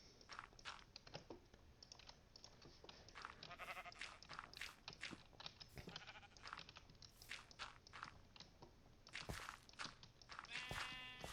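Video game sheep bleat repeatedly in short overlapping calls, near and fairly loud, over a busy stream of clicks and steps, with no talking.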